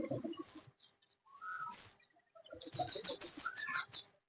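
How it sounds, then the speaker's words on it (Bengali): Pigeons being released to fly near a house, with chirps and calls in bursts and gaps, fairly close and moderately loud, no talking. "ওই সাইডে আরো মানুষ কবুতর উড়াইছে"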